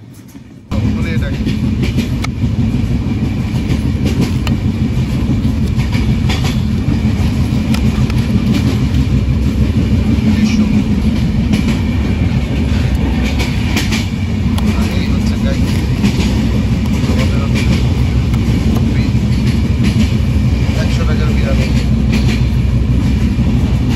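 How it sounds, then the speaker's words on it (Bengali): Aboard the Madhumati Express in an LHB coach between Rajshahi and Dhaka, a loud, constant rumble and rattle of wheels on track fills the carriage at speed for over twenty seconds, with people talking under it. "কত জোরে যাচ্ছে ট্রেন,"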